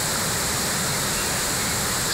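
A wild, flooded stream in Tábor rushes toward the Lužnice river, a loud, steady roar of churning water filling the whole clip with no voices.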